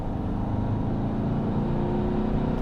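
A Peugeot 508 SW engine while driving, heard from inside the car as a steady low drone with a faint raspy edge and a constant tone riding over it.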